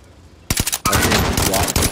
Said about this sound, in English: I'm going to shoot him.